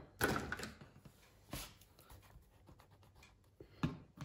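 A small rubber eraser rubs on paper in a quiet room with a few short scratchy bursts and soft thumps, faint and close, with no talking.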